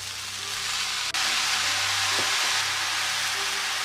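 Pork for fried rice frying in a pan, a loud, continuous close-up sizzle with a brief break and a faint clink partway through.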